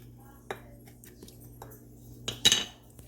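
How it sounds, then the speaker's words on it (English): Seasoning mixed with pepper for pork chops clinks against a bowl: scattered light taps and a sharper cluster of clinks toward the end, close and fairly quiet over a faint steady hum. "So I'm going to put pepper in here, mix it all together."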